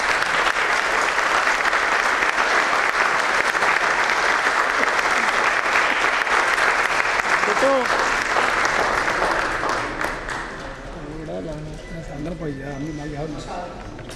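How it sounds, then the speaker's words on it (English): Sustained audience applause fills a conference inauguration hall for a guest being thanked and honored, dense and steady for about ten seconds before fading as a speaker's voice returns over the thinning claps. "I think we should all applaud."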